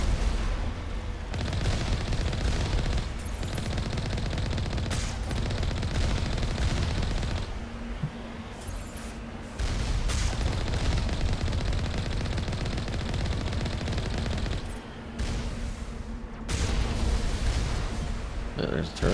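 Turret gunfire in the video game Mass Effect, rapid bursts of automatic shots hammering in long stretches broken by brief gaps, loud and close, with a voice speaking over parts of it.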